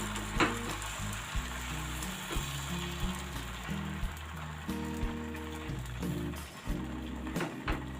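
Dal dosa batter cooking on a hot pan over a medium flame, a steady soft sizzle with faint crackling throughout, heard with low hum and background rumble.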